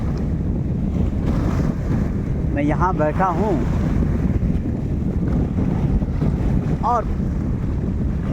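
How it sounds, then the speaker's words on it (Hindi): Ocean waves wash steadily against a shore under a cloudy sky, a constant roaring wash with wind buffeting the microphone, while someone speaks briefly and a bird calls out twice. "ये पानी की कलकल, ये समुद्र की लहरें"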